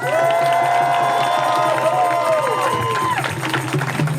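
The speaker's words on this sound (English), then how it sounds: "Give yourselves a round of applause." A protest crowd at an emergency rally in San Diego cheers and claps in a dense, steady roar, with several shouted voices rising above it before the noise thins toward the end.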